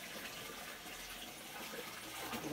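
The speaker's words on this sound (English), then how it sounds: "what you want to do is you want to pour it in the tank" Water pours steadily into an 80 to 125 litre fish tank, making a continuous broad splashing rush that stays fairly even and close throughout, with no talk.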